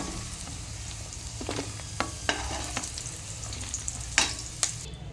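Garlic, tamarind and cumin frying in a pan for fenugreek leaf chutney give a steady close sizzle with scattered crackles and a few sharp stirring clicks, no talking.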